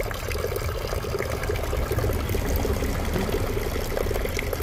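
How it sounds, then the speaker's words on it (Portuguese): Water runs from a public drinking fountain into a plastic bottle on a street, a steady splashing, trickling stream heard close and continuous with faint outdoor background. "Fontana, gente, fonte de água potável."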